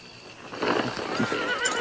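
A horse lets out a loud, wavering whinny close by in a western film scene, with faint hoof clops underneath.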